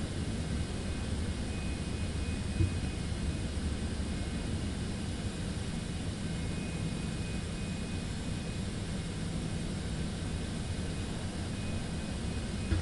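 Steady broadband roar of a Citation X business jet's engines idling on the ground in Microsoft Flight Simulator 2024, a constant even drone with no talk, holding level for the whole stretch.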